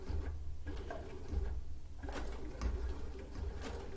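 A sewing machine runs on its foot control, making a quiet, low mechanical whir with soft rhythmic stitching clicks, starting and stopping in short bursts.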